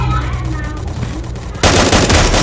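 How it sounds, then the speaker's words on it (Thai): Video game gunfire erupts as a sudden loud, sustained burst of rapid shots, cutting in after a quieter stretch with some talking. "ใครยิงกันอะใครยิงกันอะ"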